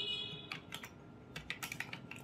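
Someone types a web address on a computer keyboard, making a quick, irregular run of close, soft key clicks over faint room hiss with no talking.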